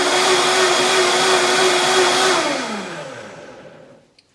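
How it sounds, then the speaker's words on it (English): An electric blender runs close and loud while mixing a rum cooler cocktail, its motor holding a steady whine for over two seconds before winding down and falling silent. "So I'm going to blend it now."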